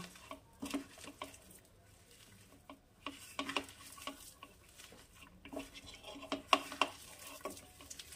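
Hands knead and squish a wet batter of mustard flowers with cumin and a splash of water in a bowl, making soft, faint patting and squelching sounds in irregular bursts, with occasional light knocks against the bowl.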